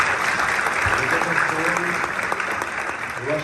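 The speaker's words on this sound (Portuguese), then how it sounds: "Vamos acolher com uma salva de palmas." Church audience applauding a welcome, a dense steady wash of clapping hands that runs throughout at a moderate, even level, with faint voices mixed into the crowd.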